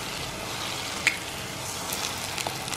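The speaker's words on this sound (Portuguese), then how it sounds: "Ó, que legal essa panela pra poder fritar ovo, ó." Eggs frying in a non-stick pan give a steady, soft sizzle that crackles on throughout, with one brief sharp tick near the middle and no talking.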